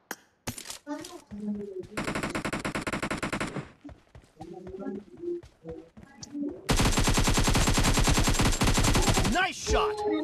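Automatic and single gunfire in the mobile battle-royale game PUBG Mobile, two long loud bursts of rapid shots plus scattered single cracks, with brief voice chatter between.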